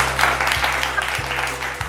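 A crowd applauds a team at an anniversary celebration in a jewellery store. The clapping is a continuous, moderate wash over a steady low electrical hum, with no clear talk.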